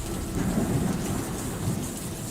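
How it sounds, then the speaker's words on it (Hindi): Heavy first-of-the-season monsoon rain pours on the streets of Mumbai, a continuous dense hiss of downpour with low rumbling thunder rolling underneath, steady and close with no voices. "मुंबई की तपती सड़कों पर मॉनसून की पहली बारिश अपना कहर बरपा रही थी।"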